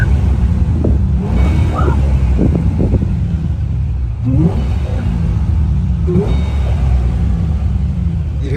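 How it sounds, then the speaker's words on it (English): A muscle car engine with a supercharger blower roars through several loud rumbling revs, rising and falling close by, with some wind buffeting on the microphone. "You hear that blower whine"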